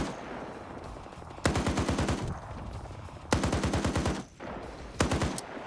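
Three loud, close bursts of rapid .50 caliber machine-gun fire in a video game, each roughly a second long with evenly spaced heavy shots, separated by brief lulls of background rumble.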